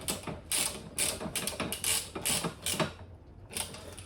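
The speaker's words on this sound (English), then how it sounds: "if you have a socket set, and tighten them fairly tight" Socket set ratchet tightening bolts while assembling a BERG BFR Black Edition go-kart, repeated bursts of fast clicking pawl strokes with short pauses between, close and clear, no talking.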